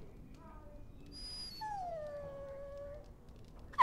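A dog in Dragon Age: Origins gives a drawn-out, high whimpering whine, then a longer falling howl-like whimper, fairly clear against a quiet background.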